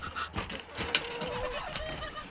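Backyard chickens let out of their coop in the morning cluck and murmur close by, with soft scratching and shuffling between short calls.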